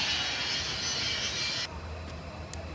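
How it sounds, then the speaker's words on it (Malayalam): A train pulls into Shoranur railway station with a loud, broad rumbling roar that cuts off abruptly partway through, leaving a quieter low hum and a faint clank. "ജസ്റ്റ് നമ്മൾ ട്രെയിൻ എത്തി"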